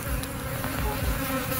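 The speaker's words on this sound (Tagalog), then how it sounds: "Daming langaw." Flies buzzing steadily and close by, a continuous droning hum with no voices.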